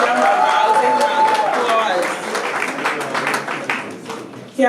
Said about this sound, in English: Come on now, let's make some noise.